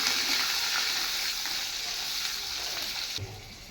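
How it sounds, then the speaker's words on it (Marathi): Paneer sizzles in hot oil in a pan, a dense, steady frying hiss close up with faint stirring, easing slightly before a short clunk near the end; nobody speaks. "बघू शकताय मी पनीर थोडंसं तेलामध्ये टाकून"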